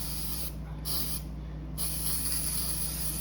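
Citrus Strip paint stripper sprayed from a bottle gives a continuous hissing spray, briefly interrupted twice by short pauses, moderately loud and close, with no talk.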